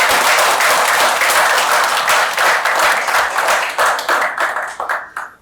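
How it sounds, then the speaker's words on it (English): An audience at a book launch gives a loud round of applause, dense clapping that thins out and tapers into scattered claps near the end. "to a huge round of applause for Dan for achieving."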